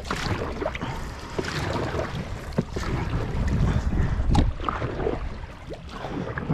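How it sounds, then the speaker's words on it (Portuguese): A small canoe moving along a river, water swishing and lapping against the hull with occasional paddle knocks, mixed with steady wind buffeting the microphone, no talking. "eu tô andando essa canoa pequena aqui até eu comprar um caiaque"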